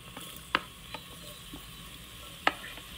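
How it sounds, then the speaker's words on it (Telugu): Chopped onions frying in hot oil for an Andhra gongura chicken, with a faint steady sizzle and two sharp utensil clacks against the pan. "ఆయిల్ మరిగిన తర్వాత ఇప్పుడు కట్ చేసి పెట్టుకున్న ఉల్లిపాయ ముక్కలు"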